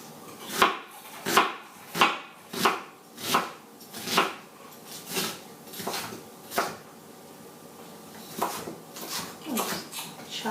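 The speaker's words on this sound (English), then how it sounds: "Chop it up a little more, a little finer." Knife chopping an onion on a board for homemade pizza, about fifteen crisp, evenly spaced thuds with a short pause midway, close and distinct, alone without talk.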